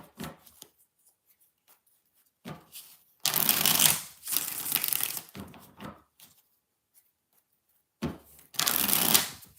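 Tarot cards are shuffled in several brisk riffling bursts separated by pauses, close and clear with no talking.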